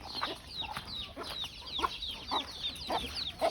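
Chickens clucking steadily in a farmyard while pecking at their morning feed, a busy layered chorus of short calls at close range with no talk.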